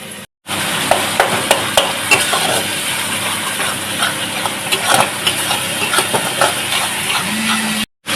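Spices frying in a pan with onion and garlic, cumin powder and lentils, being stirred: steady close sizzle with repeated scraping taps of a utensil and a faint low hum behind, no talking.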